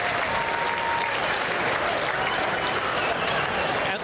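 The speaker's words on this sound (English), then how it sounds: "she is coming back to the winner's circle and just getting an astounding round of applause here" A racetrack crowd at the 2009 Vanity Handicap loudly applauds and cheers a winning mare returning to the winner's circle, a dense, sustained roar of clapping with an announcer faintly audible beneath it.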